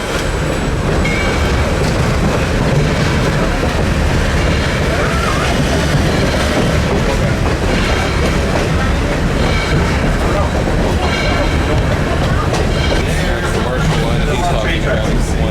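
A heritage train at the Tennessee Valley Railroad Museum rumbles steadily along the track, its continuous loud roar and rhythmic wheel clatter close by throughout, with no break in the noise.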